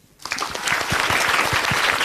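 A studio audience at an Islamic talk show breaks into applause, rising suddenly and holding as a dense, steady wash of many hands clapping, loud and close.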